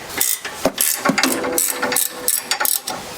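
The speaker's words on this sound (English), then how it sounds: "Basically just undo this nut here, flick that off and push the bolt that way." A ratchet wrench undoing a nut on a suspension bolt during a DIY suspension kit install, rapid clicking in short bursts with brief pauses, close and fairly loud.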